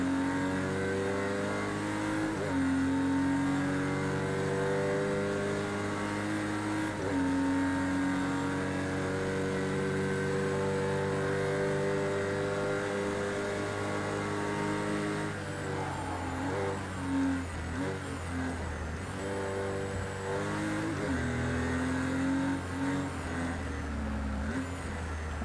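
A race car in the video game Project CARS 2, with a damaged engine, drones and revs steadily, pitch rising and dropping through gear changes over a sustained loud run, with no talk.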